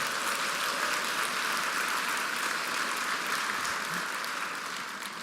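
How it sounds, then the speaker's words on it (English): Steady, sustained applause from an audience at a charity brunch, dense and even throughout, tapering slightly near the end. "So give Scott another round of applause."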